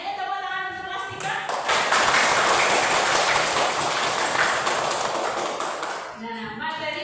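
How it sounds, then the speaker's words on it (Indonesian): A school class claps for a teacher, a dense burst of many hands that swells after a moment and fades near the end, with faint voices around it. "Ayo tepuk tangan untuk Kelastika"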